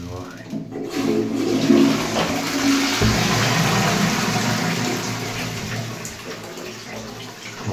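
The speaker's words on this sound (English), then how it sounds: "the best flush in my opinion." A Roca toilet with an HLSP dual-flush valve in Portsmouth flushes with a loud, full rush of water that settles into a steady refill hiss, with a little background noise at the start.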